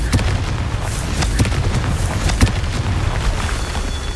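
In Hogwarts Legacy, a Confringo fire spell sets off a dense run of booming, crackling blasts with repeated sharp bursts, loud and continuous without any pause.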